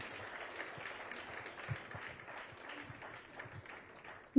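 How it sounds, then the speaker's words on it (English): A crowd at an award ceremony applauds the recipients with faint, scattered, steady clapping that sounds distant and thin throughout. "A big round of applause for all the awardees."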